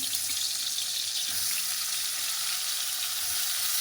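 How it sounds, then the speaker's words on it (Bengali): Pointed gourd slices dropped into hot oil, frying with a loud, steady crackling hiss that holds constant from start to finish, close up and without talk. "তেলটা গরম হয়ে গেছে, পটলটা দিয়ে দিলাম।"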